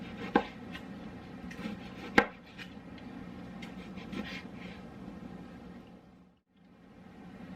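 A knife chops beef on a cutting board with nothing underneath it, giving a few sharp, hollow knocks over a quiet kitchen background before it goes briefly silent.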